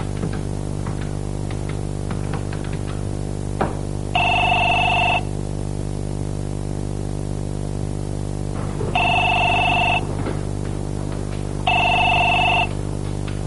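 A telephone line rings after a number is dialed, sounding three separate electronic ring bursts with long pauses between them over a steady background hum and static, with no talking.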